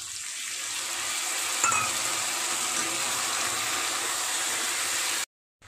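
Arrowroot powder slurry poured into a hot pan of baby corn chilli sets off a loud, steady hiss of sizzling that lasts about five seconds, then stops abruptly.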